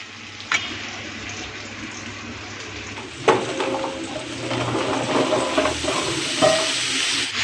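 Chopped vegetables tumble into hot oil rendered red from fish fat and are stirred, giving a steady close sizzle with sharp clatters from the spoon against the pan, and no talking.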